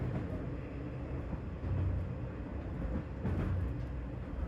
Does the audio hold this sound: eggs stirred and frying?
no